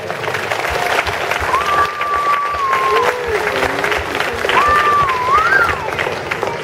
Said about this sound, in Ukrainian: Тому нехай наші оплески для всіх артистів, українських артистів, в першу чергу ті, які будуть на цій сцені.